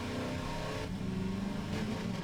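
A steady, low car engine drone in Half-Life 2 hums continuously, shifting pitch slightly partway through as the car cruises along, with no talking.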